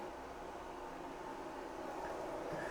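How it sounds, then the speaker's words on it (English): Anker SOLIX C1000 portable power station running at about 230 watts, giving off a low, steady white-noise hiss from its cooling fan, faint and unchanging, with no talking. "even at 230 watts, it's kind of got a low volume white noise"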